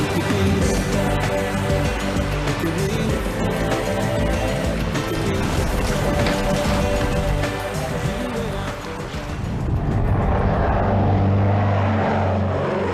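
A vintage seaplane in the Bay of Islands, New Zealand, with a loud, close propeller engine droning steadily, dipping briefly, then roaring up strongly again near the end.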